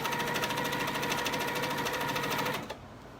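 A long arm sewing machine stitches a quilted table runner in a steady, fast, even mechanical rhythm close by. The stitching stops cleanly just before the end.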